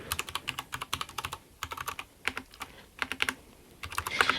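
Typing on a USB keyboard connected to an Amiga 500, close and fairly quiet, with quick bursts of key clicks separated by short pauses.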